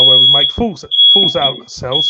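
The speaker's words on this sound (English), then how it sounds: "His smoke alarm's gone off, boys and girls." A smoke alarm beeps in a steady high-pitched tone, loud and continuous beneath someone talking close to the microphone.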